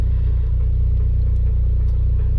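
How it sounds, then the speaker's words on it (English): A 2010 Mitsubishi Evo X MR engine idles steadily on a dyno, a loud, close, even low rumble with a fast regular pulse that stays constant throughout, with no talking. "now we're idling under our latest calibration"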